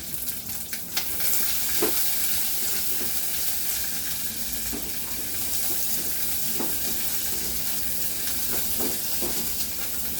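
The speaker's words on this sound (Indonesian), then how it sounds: "Ini api yang paling kecil saja guys, biar nggak cepet gosong, biar kacangnya ini matang guys." Peanuts fry over the lowest flame in a pan for a peanut chili sauce, giving a steady soft sizzle with scattered stirring scrapes and clicks throughout.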